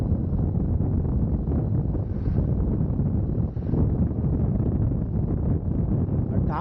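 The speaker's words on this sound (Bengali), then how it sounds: "মানে সেই একটা ঠান্ডা বাতাস" Cold wind rushes past during a motorbike ride in sixth gear near Kaptai Lake, a loud continuous buffeting roar across the mic that never lets up.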